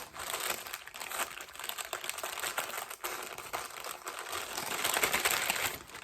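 Tissue paper crinkles and rustles continuously as a package from a fabric shop is unwrapped up close, with soft crackling bursts throughout and no talking.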